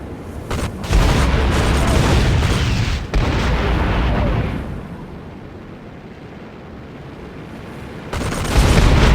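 Aircraft gun fire in the flight combat game The Sky Crawlers: Innocent Aces, dense bursts of rapid booming shots for several seconds, a quieter lull, then firing resumes loudly at the end.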